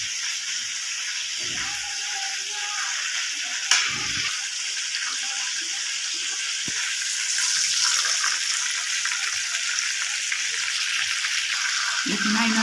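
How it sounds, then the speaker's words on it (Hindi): Masala with green chillies for chicken achar gosht frying in a pot over raised heat, a soft continuous sizzle with a few clinks and stirs, faint and steady throughout. "फ्राई होता रहेगा, आँच मैंने थोड़ी सी तेज़ कर दी है"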